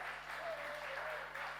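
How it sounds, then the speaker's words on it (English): Applause from a press-conference audience in Mumbai for the Rings of Power cast, a steady, fairly quiet patter of clapping through the whole moment, with a faint tone and murmur underneath. "big round of applause for Sushant Sriram."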